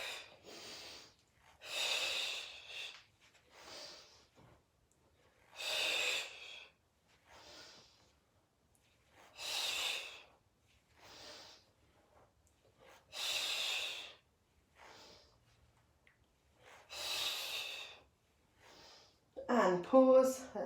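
Forceful breaths during a Pilates ab workout with crisscross moves, seven or eight sharp exhales in a steady rhythm a couple of seconds apart, close to the mic with quiet gaps between, and a short voice at the end.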